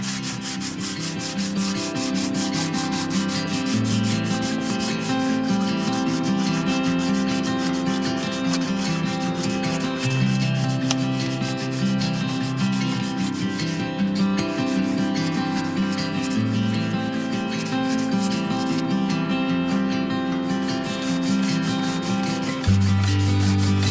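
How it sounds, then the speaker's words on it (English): Hand sanding on an axe head to strip off black carbonization makes a continuous, close, scratchy rubbing, with steady back-and-forth strokes and no talk. "the hand sanding it is."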